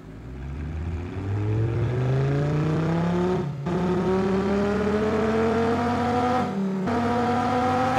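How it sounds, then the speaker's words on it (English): A car engine accelerates hard under automatic transmission, its rising whine climbing steadily with two brief dips as the gearbox shifts up on its own, loud and close with no talk. "it will give you a good idea of what the engine actually sounds like"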